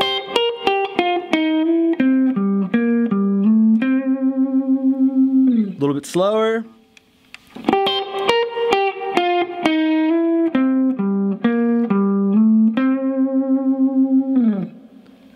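Electric guitar with distortion, chorus and echo plays a slow blues lick in C, clear bent and sustained single notes in two phrases with a short gap between them, and someone briefly speaks over the pause.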